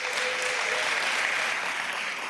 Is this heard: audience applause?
yes